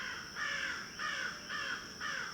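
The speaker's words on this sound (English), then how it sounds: "The crows are upset about something." Crows cawing outdoors in a steady series of four harsh, drawn-out calls, evenly spaced and fairly close, with no other voices.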